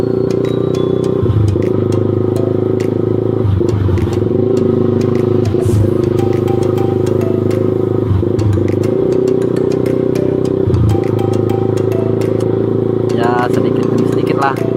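A motorcycle ridden on a Saturday night, its steady engine drone and rumbling road noise continuous and close throughout, with someone talking over it the whole time.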